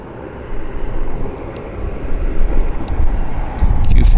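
A Q400 turboprop airliner taxis at Vancouver airport on a bright day, its engine drone a steady broad roar that swells louder toward the end, with faint voices in the background.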